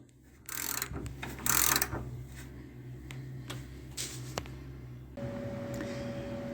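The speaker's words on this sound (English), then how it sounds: "We just grab a puller and off it comes." A puller works a timing sprocket off the engine of a 1976 Dodge D100 pickup: a few close metallic clicks and scrapes, brief bursts of grinding, then a steady low hum underneath.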